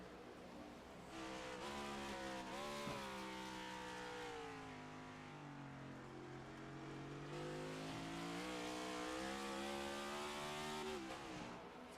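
Race cars of the Riptide Radio Next Gen Cup Series at Watkins Glen, including the number 4 machine, roar past with steady, loud engine whine and shifting pitch throughout, with no talk over it.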